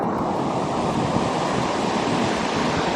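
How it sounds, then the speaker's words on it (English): A raging river on the West Highland Way, swollen after heavy rain, roaring as a loud, constant broadband rush of water with wind buffeting the microphone, no voices. "I'm not surprised the river's raging."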